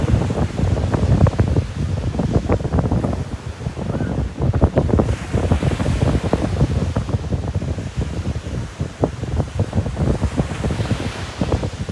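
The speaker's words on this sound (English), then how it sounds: "currently on the beach in Miami right now" Ocean surf rolls and crashes on a Miami beach while steady wind buffets the microphone, loud and continuous throughout with no talking.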